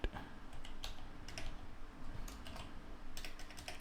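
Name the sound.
typing on a computer keyboard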